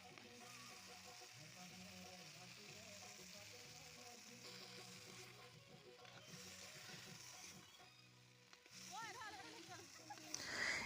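Meat cooking in a kadai over a fire outdoors on a cold day, with a steady low sizzle under continuous voices and a louder frying rush toward the end.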